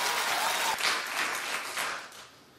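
A television studio audience claps, a dense round of applause that thins into scattered popping claps and fades out over a couple of seconds.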